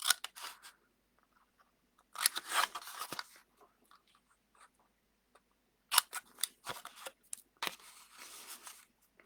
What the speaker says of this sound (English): So we're gonna cut out our corners.